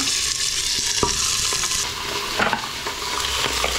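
Oil heats and fries in a pot as couscous is prepared Tlemcen style, giving a continuous close sizzle broken by a few clicks and stirring scrapes.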